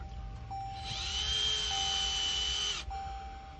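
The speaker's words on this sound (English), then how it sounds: "Adjust your drill to a low torque setting." A cordless drill drives screws while towing mirrors are fitted to a Toyota Fortuner, a short high whine that spins up, holds for about two seconds, then stops, close by and alone.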